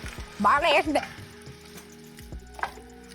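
Garlic paste, ginger paste and tomato puree sizzle in a pan for a restaurant-style curry base gravy. There is a short burst of stirring, a voice breaks in briefly, and then a quieter frying hiss follows.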